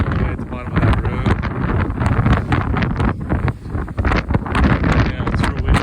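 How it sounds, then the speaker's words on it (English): Strong wind buffets the microphone in loud, continuous gusts on a mountain summit face near Pueblo, rumbling and roaring with no letup. "Yeah, it's real windy."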